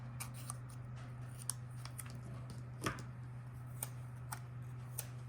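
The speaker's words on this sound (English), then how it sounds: "But I am going to cut the white part off." Scissors snipping the white edge off a sheet of paper for a boho-themed planner page, a handful of soft, separate clicks and snips spaced a second or so apart over a steady low hum.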